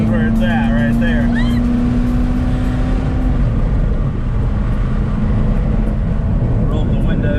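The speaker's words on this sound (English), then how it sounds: "Roll up the windows because we got some wind noise going on" Wind roars and buffets through the open windows of a fast car at speed, a steady, loud broadband rush with a faint engine tone underneath throughout.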